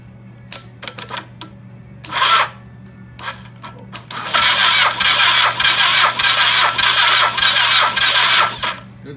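A 1982 Suzuki GS1100 motorcycle's starter cranks through a jumped relay: several brief clicks and short bursts, then a sustained whirring crank lasting about five seconds with a slight pulsing rhythm, loud and close, with no engine catching.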